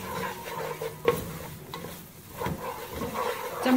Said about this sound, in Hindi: चम्मच आपने लगातार चलाते जाना है